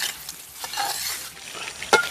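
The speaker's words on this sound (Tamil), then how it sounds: "இப்போ இது கிளறி கொடுக்கலாங்க" A spoon stirs chicken pepper fry masala around a hot pan, scraping and sizzling in short strokes at close range, with a sharp metallic clink near the end.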